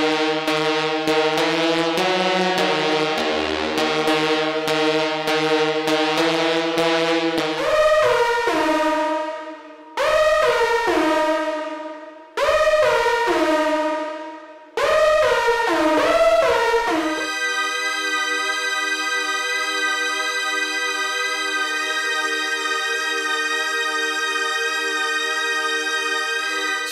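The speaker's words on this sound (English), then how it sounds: "Now this is a synthesizer built into Cubase 3, and it is really," A Microlog synthesizer lead inside Cubase 3 plays alone: a bright buzzy sustained tone, then several pitch-swooping stabs that drop off, followed by a long steady held note.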